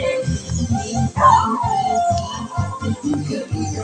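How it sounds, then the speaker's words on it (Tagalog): Dogs on a farm howling and whimpering close by, a rising howl mixed with short whines and yips that come in irregular bursts. "Ay, yung mga aso pala ito."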